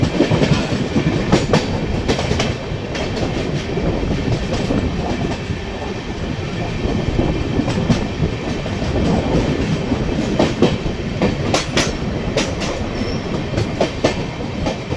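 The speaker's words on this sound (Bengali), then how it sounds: "মাত্র 30 মিনিট লেটে ট্রেন ঢুকলো বর্ধমান জংশনে" The Kanchanjunga Express, an LHB train from Sealdah to Sabroom, pulls into Bardhaman Junction with a continuous loud rumble and rhythmic clatter of wheels over rail joints, heard from on board without talking.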